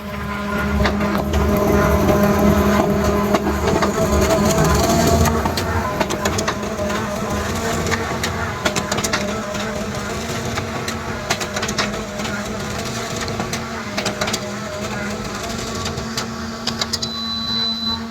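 Canon iR 2002 A3 photocopier running off five copies, a loud continuous mechanical whir and hum with rapid ticking and rhythmic feed clatter lasting throughout.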